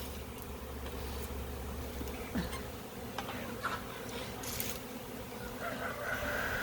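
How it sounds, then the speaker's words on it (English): A swarm of Italian honey bees buzzes steadily as it is caught on a tree limb, a continuous low insect drone with occasional faint clicks and bumps over it. "That is a lot of bees."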